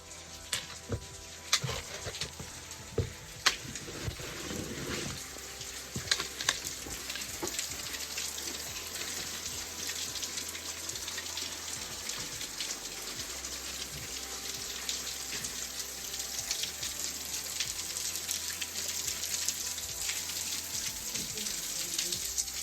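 A waterfall pours down behind a rock shelter along a cliff-base trail at Carter Caves State Resort Park, a steady broad rushing wash of water with a few louder splashes early on.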